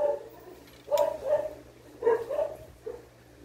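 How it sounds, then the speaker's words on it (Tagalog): A dog barks a few times nearby, short sharp yaps in two quick clusters and a final single bark against a quiet background hum. "Nakikisali yung aso ko."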